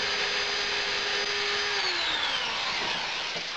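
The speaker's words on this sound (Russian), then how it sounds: "Засверливаем сначала отверстие кабины танка, затем в корпусе танка по размеченным отметкам." Power drill boring holes into the wooden body of a handmade toy tank, a loud, steady whirring motor whine that drops in pitch as the bit bites into the wood, heard alone.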